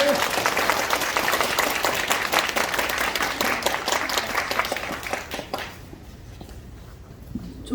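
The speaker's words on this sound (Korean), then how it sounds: "큰 박수 부탁드립니다" Attendees at a political candidacy announcement event for a National Assembly seat in Sejong applaud loudly for about five seconds, then the clapping fades to a quiet room with a few scattered sounds.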